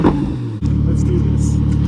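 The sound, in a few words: loud car engine running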